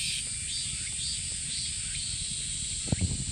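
Cicadas singing at Doksuribong in Boeun, South Korea, a continuous high-pitched buzzing drone filling the background, with a few soft rustles near the end.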